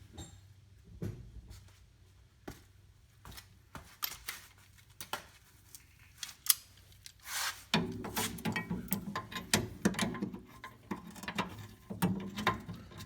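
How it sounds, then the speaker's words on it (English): Ratchet working a 17 mm rear shock bolt on a Mazda CX-7 makes faint, scattered clicks, followed by denser rattling and mechanical noise later on, quiet and without speech. "So you'll want to take out this bolt on the back side."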